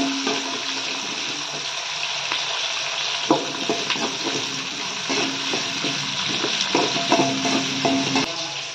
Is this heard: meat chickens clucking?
no